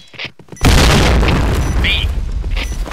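A grenade goes off in a first-person shooter game, a single loud booming blast that erupts suddenly after a moment of quiet and then rumbles and decays over the next couple of seconds, with faint game voices around it.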